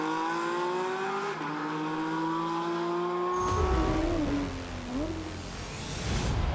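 Race cars including a Porsche Cayman GT4 circuit racer drone with a steady high engine note that rises and shifts through gears, growing louder as a car passes close by.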